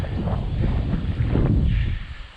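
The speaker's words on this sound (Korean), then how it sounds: "바람 소리 많이 나네요" Steady broadband wind rush buffets the microphone for a couple of seconds on open rural land in Yeongyang County, South Korea, loud and continuous with slight gusting swells.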